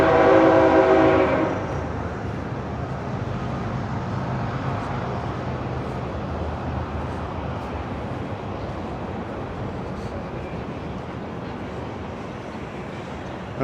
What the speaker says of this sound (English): Oh, there's the train again.